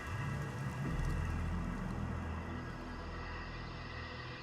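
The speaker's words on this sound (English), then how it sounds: "As water evaporates, vapor builds up in the atmosphere, and it begins to rain." Rainfall rendered as a steady broadband wash with a low rumble underneath, moderately loud and continuous, with no voices present.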